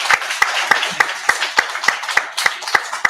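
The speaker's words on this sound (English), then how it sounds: "Give them a round of applause" Rhythmic clapping at a mayoral forum, sharp, evenly spaced claps roughly three per second over a soft bed of scattered applause, close and fairly loud, with no talk.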